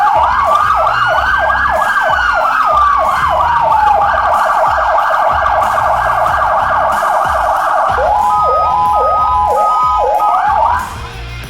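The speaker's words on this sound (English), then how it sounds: "This is the dual siren tones." A loud emergency vehicle siren from a Code 3 Matrix package wails in two overlapping tones, one sweeping slowly while the other warbles fast, then switches to a sharper rapid yelp before cutting off.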